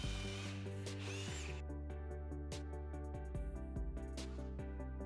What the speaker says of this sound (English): I drilled 3/4 inch pocket holes into the ends of the top, bottom, and middle panels